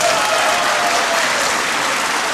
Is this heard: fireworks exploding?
no